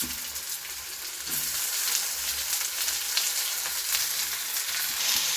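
Chopped okra fries with curry leaves and chili in hot oil, a continuous crackling sizzle that grows a little louder after the vegetables go in, close and without talk.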